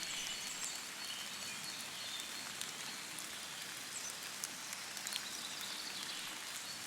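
Gentle, steady rain patters softly on surfaces, with a few faint bird calls in the distance.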